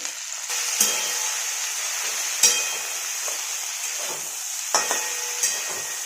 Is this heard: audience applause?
no